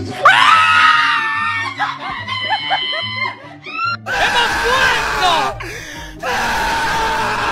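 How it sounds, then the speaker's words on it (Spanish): Excited crowd screaming and shrieking in delight at the Miss Universe 2021 result, loud close bursts of high voices with gasps and some laughter, cutting in and out in repeated waves. "Ellos gritaban y no se lo podían creer"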